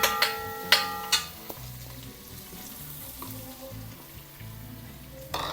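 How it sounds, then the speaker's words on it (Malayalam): Chopped garlic frying in a small amount of hot oil for Soya Manchurian: a steady, close sizzle preceded by a few sharp metallic clanks of utensils against the pan. "ഈ ചൂടായ എണ്ണയിലോട്ട് വലിയ 2 പൂണ്ട് വെളുത്തുള്ളിയില്ലേ കൊത്തി അരിഞ്ഞത്,"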